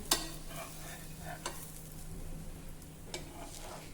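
A gram flour crepe fries in oil in a pan while a spatula scrapes to loosen its underside, a soft steady sizzle punctuated by a few sharp scraping strokes, close by with no talk.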